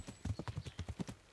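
Steady clip-clop of horse hooves at a trotting rhythm in the video game Kingdom Come: Deliverance, about a dozen crisp beats, fairly close and clear with no talking.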